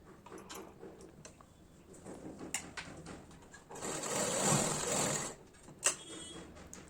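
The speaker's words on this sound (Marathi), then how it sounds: "इथे आपल्याला आता शिलाई करून घ्यायची आहे" A sewing machine stitches a blouse in a short, quiet burst of steady whirring near the middle, with faint mechanical clicks and handling noises before and after in a calm room.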